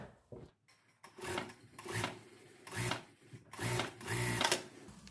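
A sewing machine stitches a folded hem on a raglan-sleeve coat in several short close bursts of rapid whirring separated by brief pauses.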